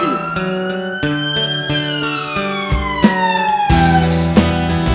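Wailing emergency siren heard within a song, its pitch sliding and sweeping over steady music that keeps going throughout, loud and continuous for the full five seconds.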